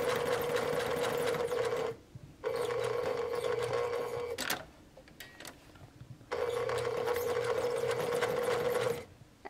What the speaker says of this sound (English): my machine just went over the elastic, so I'm gonna backstitch again and then go forward to make that strong